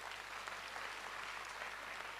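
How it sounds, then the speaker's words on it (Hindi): Audience applause at a product presentation, a continuous, fairly faint wash of clapping with no distinct individual claps and no voices. "जोरदार तालियां हो दोस्तों वंस"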